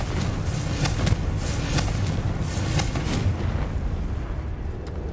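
A Confringo blasting spell in Hogwarts Legacy goes off as a rumbling, sustained explosion with a steady low roar and a few sharp bursts crackling through it, loud and close.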